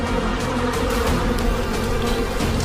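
Bees buzz densely and continuously around a honey badger raiding a hive high in a tree in the African wild, a loud close swarm with no talk.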